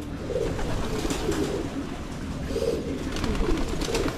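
Pigeons cooing in soft, repeated low calls, close by and continuous against a faint background of other bird noise.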